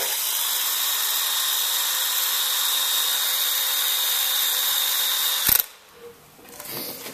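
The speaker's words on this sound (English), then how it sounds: "One of the little tricks I've learned for cleaning them out is if you get a bit of wire in your battery drill," A battery drill spins a bit of wire to scour out corroded plugs, holding a steady high whine for several seconds before cutting off abruptly, followed by faint rustling.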